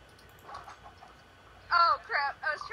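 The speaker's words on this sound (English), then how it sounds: "Oh my gosh, you have a lot of chickens." Chickens clucking in a Minecraft SMP game, a short run of bright clucks and squawks in the last second after quieter game sounds, fairly close and loud.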